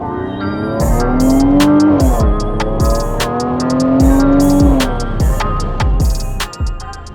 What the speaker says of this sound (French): on va prendre encore un peu de plaisir avec l'échappement actif